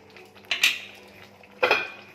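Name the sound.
putting lid on pot of eggplant curry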